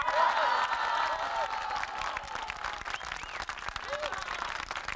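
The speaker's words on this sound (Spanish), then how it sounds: "Por favor, un fuerte aplauso a las señoritas Linel." Audience applause following a call to welcome three women who organized an event, a steady wash of clapping with scattered voices and chatter mixed in, loud at first and easing slightly.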